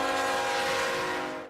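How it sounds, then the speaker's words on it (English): A CSX freight train sounds its horn at a railroad crossing in Rosedale, a loud sustained blast that cuts off abruptly at the end. "CSX freight trains still pass by on these tracks several times each day"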